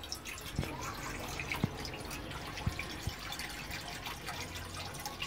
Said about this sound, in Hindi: इसमें हम पानी डाल देंगे पहले।